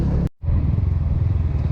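A motorcycle fitted with an aftermarket exhaust pipe rumbles close by, cutting out for a split second before returning to a throaty, pulsing idle.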